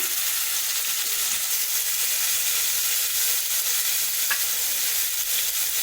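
Egg biryani masala fries in an open pressure cooker with a constant, fairly loud sizzling hiss that holds steady throughout, with only faint stirring and no voices.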